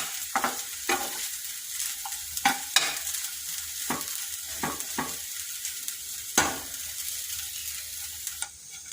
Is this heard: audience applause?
no